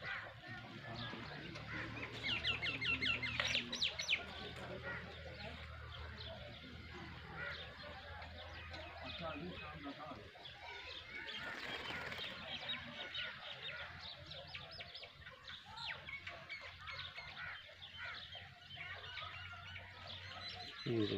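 Chickens cluck and pigeons coo amid general farmyard bird chatter, with a person speaking intermittently over the animal sounds.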